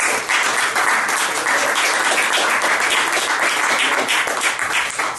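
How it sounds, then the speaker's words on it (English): A room full of people at a twelve-tone music masterclass applauds, dense steady clapping that continues evenly for several seconds before easing slightly at the end. "So please give him a welcome applause."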